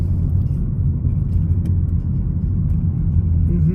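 Steady low road rumble of a car driving through a winter city center past high-rise buildings, a continuous close engine and tire drone with no talk.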